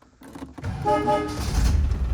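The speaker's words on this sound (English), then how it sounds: "push a button here, and the horn will honk" A single car horn on a 1998 Land Rover Defender 110 toots in a steady held blast, fairly loud and close, with its 300TDI turbo diesel engine rumbling beneath it in an enclosed garage.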